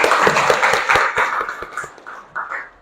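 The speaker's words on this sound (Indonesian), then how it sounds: "Tepuk tangan untuk temannya." Students in a classroom clap for a classmate, a short burst of quick, bright handclaps that thins out and fades over a few seconds.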